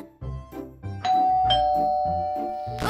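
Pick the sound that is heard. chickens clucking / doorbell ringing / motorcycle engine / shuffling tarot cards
doorbell ringing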